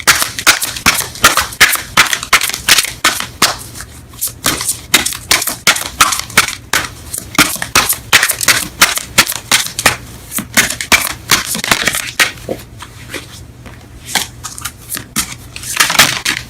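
A deck of Romance Angels oracle cards being shuffled close up, with rapid, steady flutters and riffling clicks in long bursts and brief pauses between them.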